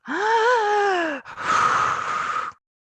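A voice imitates deep, heavy breathing through the mouth: a long, loud, groaning inhale, a brief pause, then a breathy exhale that fades into silence.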